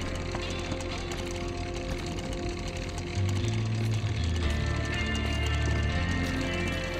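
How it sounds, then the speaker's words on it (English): A finger chainsaw weapon in Shadow Warrior 2 runs with a dense, buzzing mechanical rattle, steady and loud, joined midway by a deeper droning hum that swells and holds. "Finger chainsaw."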